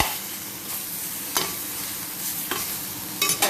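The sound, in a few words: chili added to frying spare ribs in pan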